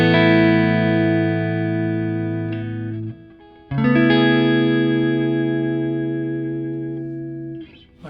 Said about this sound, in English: I'm playing through a 68 Deluxe Reverb that's been black-faced and actually has Allen transformers in it